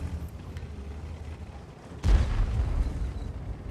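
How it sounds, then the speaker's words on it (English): A tank cannon fires in World of Tanks during a T-100 LT light tank match. One heavy boom bursts out about halfway through over a steady low engine rumble and keeps ringing loudly afterward. "Somebody's firing in that corner."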